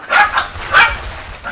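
Two sharp, close dog barks ring out about half a second apart, followed by a softer yip at the end, with little else around them.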